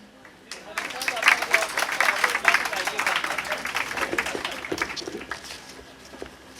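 Audience clapping at a retirement farewell party held at a district office in Lahore, a steady round of applause with murmured voices mixed in, moderately loud and sustained throughout.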